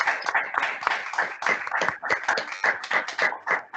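A small group of speakers standing at a patient meeting claps in a brisk, uneven patter of distinct individual hand claps, fairly close and fairly quiet.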